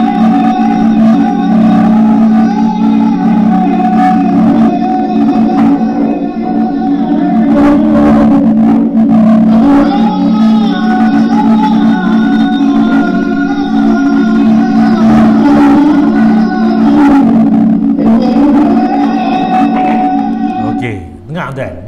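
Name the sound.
played recording of a call to prayer resembling the adhan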